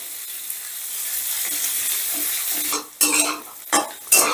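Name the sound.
paneer frying in a pan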